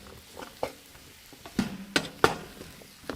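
Mushrooms sautéing in a pan over a hot-tent camp stove in winter: quiet scraping stirs and a few sharp clicks of a utensil against the pan, with a faint sizzle underneath.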